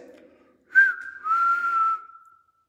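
A person whistles a single sustained note that bends slightly in pitch, clear and close in a quiet, empty building, after a brief low murmur at the start.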